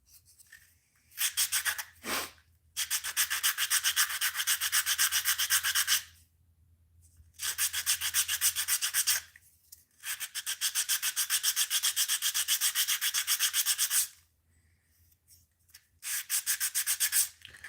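Repeated strokes of sanding on a handmade fishing lure, steady scratchy bursts of a few seconds each with short pauses between, close and fairly quiet, no talking.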